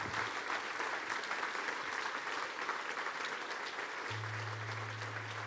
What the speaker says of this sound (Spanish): Dar un aplauso fuerte a Dios.